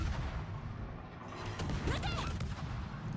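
Ship guns fire in the naval combat game World of Warships, with dense rumbling booms and layered gunfire under a noisy battle backdrop, heard at moderate level over a few seconds.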